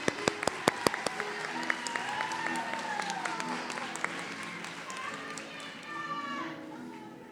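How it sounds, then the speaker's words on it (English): Applause for BSN nursing graduates at an LCON college convocation ceremony, with a few sharp near claps up front over a steady wash of clapping, along with faint voices and whistles from the crowd. "Let's have one more round of applause for all our BSN graduates"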